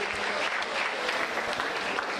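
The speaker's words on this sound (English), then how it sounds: "A round of applause, please." Audience applause at a hall event in Nigeria, a sustained wash of many hands clapping at moderate distance, steady and unbroken without speech.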